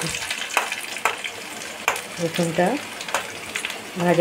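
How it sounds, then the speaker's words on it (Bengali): Steady sizzling of garlic frying in hot oil over low heat, with occasional stirring clatters and brief bursts of a voice over it. "এবার আমি প্রথমে রসুন ফোড়নটা দিচ্ছি"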